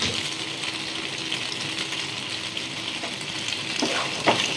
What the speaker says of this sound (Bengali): পাস্তা দিয়ে একটু নেড়ে চেড়ে নেবো।